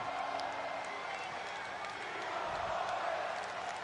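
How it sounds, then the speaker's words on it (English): Wrestling crowd chanting for Roman Reigns at a Crown Jewel no-holds-barred match, a dense, steady roar of many voices filling the arena with no single voice standing out. "the crowd is singing Reigns"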